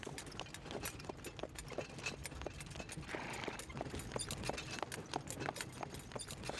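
A horse pulling a cart along a road in the Sahara savannah clip-clops steadily, with faint, evenly spaced hoofbeats at a distance under a low background hiss.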